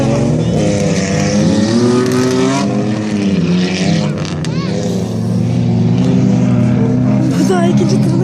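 An off-road race car's engine revs loudly and continuously at a track course, with high engine whine rising and falling over the full length while people talk nearby.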